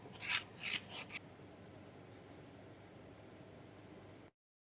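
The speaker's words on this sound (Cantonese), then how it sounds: "平水一啲去磨佢咯" A rubber shock-absorber bushing from a Java Neo 349 bicycle is sanded flat by hand: three short, quiet rasping strokes, then only a faint steady hiss.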